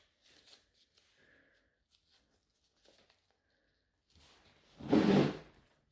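Scissors trimming a paper nail form to a toe's shape during a pedicure: a few faint soft snips, then one louder close crinkling swish of the form being handled.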